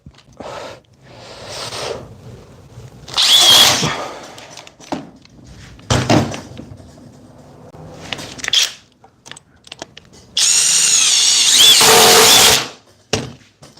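Cordless Flex impact driver sinking 4-inch all-purpose T25 screws, heard as several loud rattling hammering bursts of varying length, the longest near the end, separated by quiet pauses.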